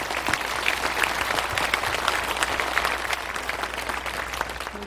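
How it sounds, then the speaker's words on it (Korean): A Buddhist temple audience at a dharma closing ceremony breaks into sustained applause, a dense, even roar of many hands clapping that continues steadily without pause. "김영석 어, 포교사단 단장님께 큰 박수를 한번 부탁드리겠습니다."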